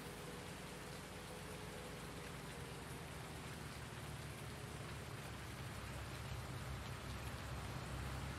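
Steady rain falls in the farming game Farming Simulator 19, a dense, even hiss of drops on surfaces that holds at a constant level throughout with no pauses or talk.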